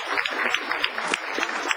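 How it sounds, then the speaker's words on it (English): Brief burst of applause from the audience at a county commissioners court meeting, a steady patter of many hands at moderate level. "give them another big round of applause"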